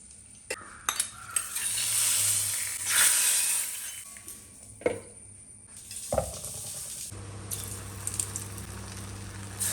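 Coconut paste ground with cumin, onion and turmeric tempering in a pan, with bursts of sizzling and frying, stirring scrapes and a few sharp clinks of utensils against the pan, close by.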